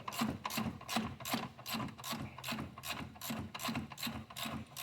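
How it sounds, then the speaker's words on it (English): A hand ratchet tightening the alternator bolt on a 2004 Subaru Forester clicks in fast, even bursts of about two strokes per second, close and clear with no talk. "we will keep tightening this bolt down until we start setting our tension on our belt"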